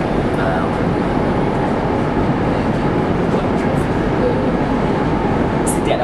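RER commuter train passing at close range, a loud steady broadband rumble and rush of wheels on rail that fills the whole stretch without breaks.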